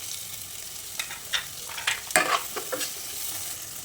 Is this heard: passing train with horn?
no